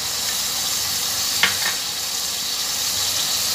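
Ginger-garlic paste and ground spices sizzle in hot oil, a steady close frying hiss throughout with a brief stir or clatter near the middle; no talking.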